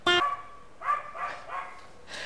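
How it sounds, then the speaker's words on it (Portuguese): A neighbour's dog lets out one sharp close bark followed by a few softer, fainter yips and whimpers from further away. "temos a participação especial do cachorro do vizinho"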